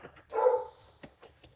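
A single loud dog bark close by, followed by a few softer yips and thumps.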